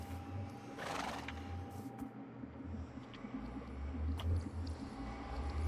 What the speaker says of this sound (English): So we got our horsey over here.